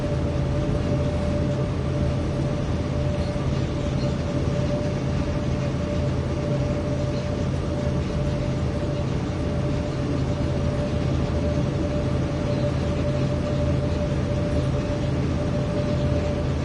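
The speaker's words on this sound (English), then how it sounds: "Got ourselves a runaway train." A runaway BNSF freight train rolls through Cajon Pass in Train Sim World 5, giving a loud, steady rumble and rail drone with a sustained tonal whine, unbroken and without voices for the whole stretch.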